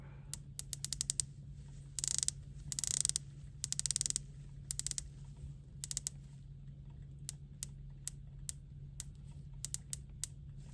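A Tudor Black Bay 41 watch bezel is turned through its 60-click ratchet, giving crisp, faint, rapid clicks in quick bursts and then slower single clicks spaced across the clip, alone over a low steady hum.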